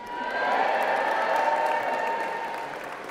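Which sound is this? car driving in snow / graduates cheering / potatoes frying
graduates cheering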